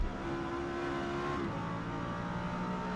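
A Lexus LFA races down the front straight at Spa in Forza Motorsport, its engine holding a loud, high, tonal wail that shifts pitch midway as it gains speed, with no talking.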